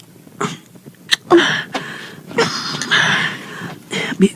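Several harsh coughs burst out in short, irregular fits, close and fairly loud, with breathy gaps between them.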